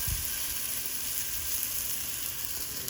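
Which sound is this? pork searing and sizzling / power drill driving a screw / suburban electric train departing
pork searing and sizzling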